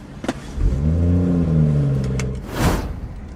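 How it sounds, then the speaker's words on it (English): A BMW M240i engine fitted with a carbon induction kit revs up with a deep, rising roar and a throaty intake note, then settles back down before a brief whoosh. "Listen to how the cold air has been sucked into the engine."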